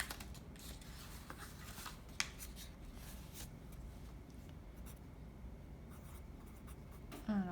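A pencil scratching out multiplication on scratch paper, a steady soft scraping and rubbing texture at low level, with a couple of sharper taps, and no speech.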